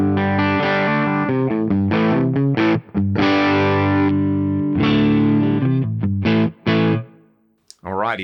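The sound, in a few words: electric guitar bridge humbucker pickup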